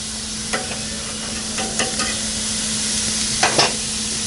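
Large bison burgers sizzle on a Weber Genesis II E-310 propane gas grill, a steady broadband hiss carrying a faint constant hum, with a few short scraping clicks from a spatula or lid near the start and end.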